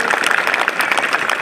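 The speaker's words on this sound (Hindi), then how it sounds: "तालियां बजा दो फिर जोर से।" An audience at a youth group gathering in India claps loudly and steadily in dense overlapping applause close by, with no speech over it.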